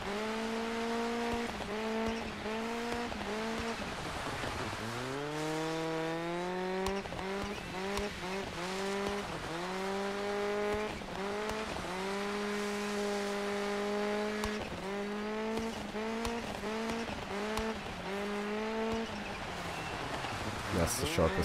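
Race car engine in the Dirt 5 video game revs and accelerates, its tone climbing and dropping through gear changes and turns, loud and continuous with faint tire noise as it drifts through corners.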